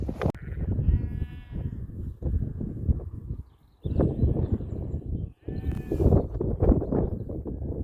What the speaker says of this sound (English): they're feeding the sheep